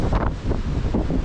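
Gusty wind buffeting the microphone in irregular rushing bursts, loud and close, with no voices.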